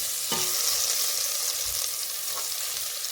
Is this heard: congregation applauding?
no